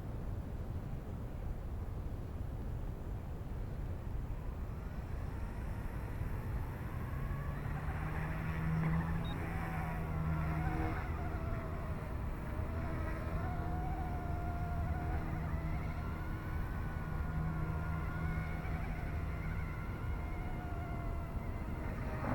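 A Yuxiang F150 RC helicopter flies in 3D mode outdoors on a Sunday morning, its steady rotor and motor whine droning continuously throughout, with pitch shifting up and down as the throttle changes.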